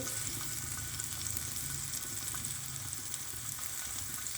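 Soft tofu pan-frying in a pan, a steady, close hiss of hot oil sizzling evenly with no pauses and no talking.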